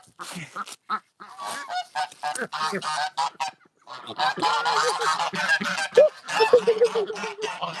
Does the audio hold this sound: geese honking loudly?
yes